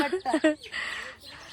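A few short chicken clucks come close together at the start, then trail into a softer, drawn-out squawk.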